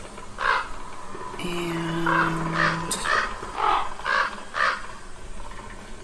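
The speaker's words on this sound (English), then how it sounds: "these birds, they drive me nuts. Like, why are there so many birds?" In the Don't Starve: Reign of Giants game, crows caw harshly again and again in a loose rhythm, mid-distance, over soft ambient game sound and a brief tonal hum.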